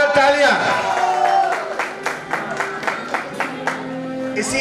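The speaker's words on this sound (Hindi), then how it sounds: "जोरदार तालियां।" An audience at a Republic Day festival closing session claps loudly as a guest is called to the stage, with clear clap bursts and a hubbub of voices beneath.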